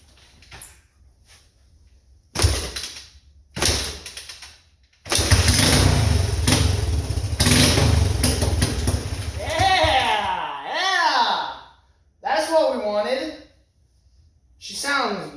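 A Kawasaki KLX 250 motorcycle, revived after years of sitting, cranks over in short bursts, then catches and runs loudly for several seconds. Voices talk once the engine stops.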